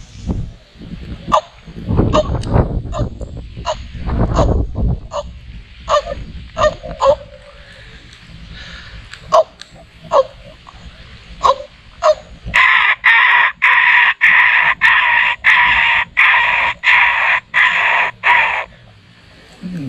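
A man vocally imitates the call of a white-breasted waterhen, a rapid series of loud, sharp repeated notes, first deeper and throaty, then shifting into a steady run of high, nasal croaking calls.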